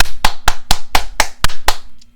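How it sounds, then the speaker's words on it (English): A single person claps hands seven times in a steady, evenly spaced rhythm, each clap sharp, close and loud against near silence. "Clap with me."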